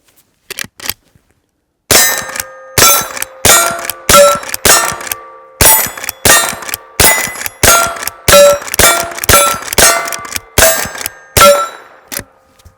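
A Henry garden gun smoothbore fires Blazer 40 grain lead rounds at close range: about fifteen loud, sharp reports in quick, slightly uneven succession, each with a metallic ringing tail, alone without talk.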